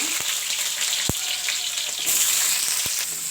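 Chopped onions and green chillies frying in a pan for home-made egg rice give a continuous, dense sizzle close by, steady throughout with a few faint clicks of a utensil.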